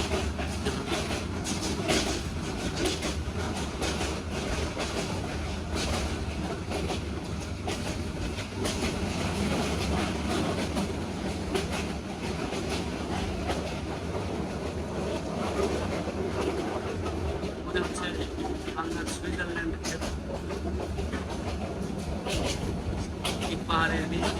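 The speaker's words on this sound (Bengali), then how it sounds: "মিরসরাই রেল স্টেশন এখানে রয়েছে আরেকটা ছাড়া ট্রেন" Train running past Mirsarai railway station, heard as a steady, loud rumble of rolling wagons with faint clickety-clack throughout, carrying on continuously for the whole stretch.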